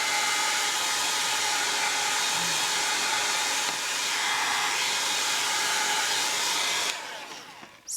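Hair dryer blowing steadily and loudly to dry alcohol inks in a craft project, a continuous broadband whoosh running almost eight seconds before cutting off near the end.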